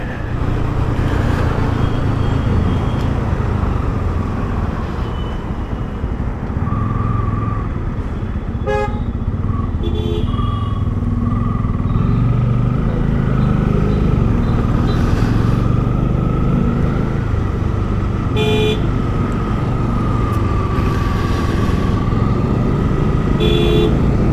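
Motorcycle cruising along National Highway 44 on a long road trip, a steady loud engine and wind rumble throughout, with passing traffic and several short vehicle horn toots in the background.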